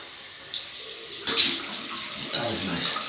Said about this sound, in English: So we'll have a cold water rinse, and that'll be nice.